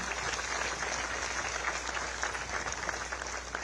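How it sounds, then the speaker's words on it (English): Audience applause at a ceremony honoring Prime Minister Narendra Modi in Guyana, dense continuous clapping from a large crowd, loud and even throughout with no speech over it. "I ask all of us to applaud him"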